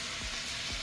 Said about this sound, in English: we're gonna just let that sizzle for a little bit